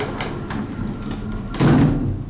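A Kone KSS 370 hydraulic elevator's door slides slowly along its track at close range, a low rumbling motion that ends in a louder thud as it comes to rest, with no clear talk.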